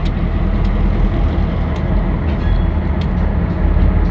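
An Amtrak train rolls past near a rail yard with a loud, continuous low rumble and sharp periodic clacks from the wheels passing over rail joints.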